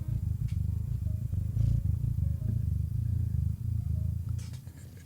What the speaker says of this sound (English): you can actually hear him purring here